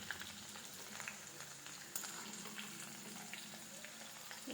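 Small onions fry in oil in a pan, giving a steady, fairly faint sizzle with light crackle throughout and no talk.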